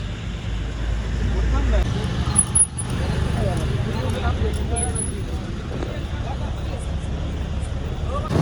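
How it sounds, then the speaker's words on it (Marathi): A convoy of cars and other vehicles sets off along a road, filmed from a two-wheeler riding with them, giving a steady broadband engine and tyre rumble with faint voices mixed in. "चला फायनली आपल्या सगळ्या गाड्या निघलेल्या इथं"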